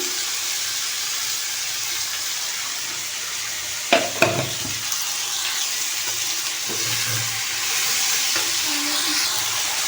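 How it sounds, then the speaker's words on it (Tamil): Onion, tomato and garlic sautéing in a pan with a little salt for a chicken gravy, giving a steady soft sizzle with brief stirring clatters near the middle, no talking. "இது கூடவே கொஞ்சமாக சால்ட் கொஞ்சம் போட்டு வதக்குவோம்"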